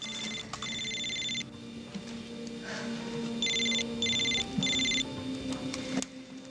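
A telephone rings indoors in a soap-opera scene, sounding as several quick electronic trilling bursts in a regular ring pattern, moderately loud over a quiet room hum, with no speech.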